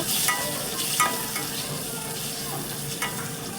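Liver curry being stirred as it fries in a pan, a steady close sizzle with a few scraping strokes of the spoon, with no talking.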